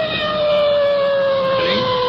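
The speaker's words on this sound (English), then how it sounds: "And now the sergeant's really blasting that siren coming into that intersection." A police car siren blasts at full volume as the car enters an intersection, a steady, piercing wail held close and loud for the whole stretch, with no talking.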